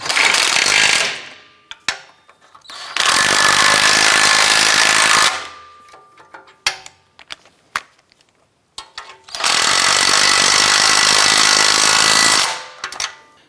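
An air impact tool snugs down the nuts on the rear exhaust manifold catalytic converter assembly of a 2004-2008 Acura, with three loud, sustained buzzing bursts of a few seconds each. Quiet clicks and handling noises fall between the bursts.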